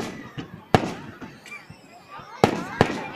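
Fireworks burst in a series of sharp bangs, a few soft early pops then three loud cracks near the end, with crackling tails and people talking in the background.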